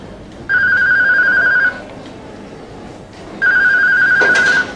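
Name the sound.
telephone ringing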